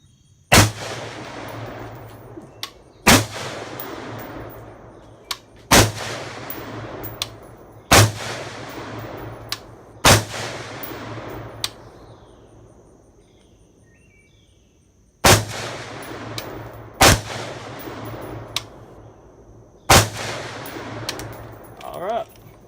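Rifle shots from a .223 AR at a Kevlar helmet on an outdoor range: about ten sharp, loud reports, spaced a few seconds apart in two bursts with a pause between, each followed by a short ringing decay.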